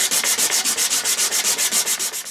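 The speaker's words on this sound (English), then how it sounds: "I'm going to spend another couple of minutes just smoothing down both sides of this" A wooden spoon is sanded by hand, a rhythmic back-and-forth rasp of about a dozen even strokes, close and crisp, easing off at the end with no voices.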